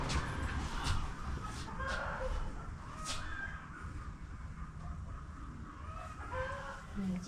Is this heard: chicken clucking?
yes